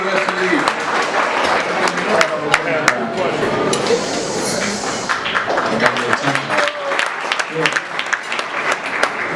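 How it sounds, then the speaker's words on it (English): An audience at a Latino awards ceremony applauds the Army ROTC, a dense, sustained wash of clapping that holds at full strength throughout, close and busy, with a few voices mixed into the crowd. "So a big round of applause for the Army, ROTC."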